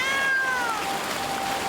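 A cat meows in the video game Blacktail: a single drawn-out meow that falls in pitch, close and clear over a faint trickle of water, with no talking.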